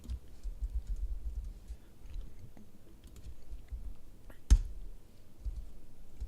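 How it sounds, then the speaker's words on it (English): Soft, irregular typing on a computer keyboard, with faint clicks and one sharper tap near the end over a quiet background. "I'm not doing a great job with my typing"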